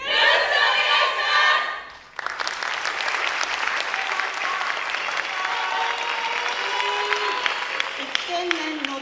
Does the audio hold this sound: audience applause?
yes